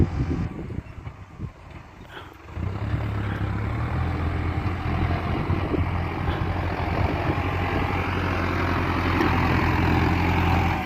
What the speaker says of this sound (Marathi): तो माती लेवलिंग चालू आहे. ट्रॅक्टर आहे